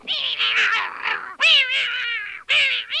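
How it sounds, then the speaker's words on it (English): A cartoon green cat meows in three loud, drawn-out, wavering cries, each rising and falling in pitch, close and clear with no talk over them. "Good heavens, a green cat."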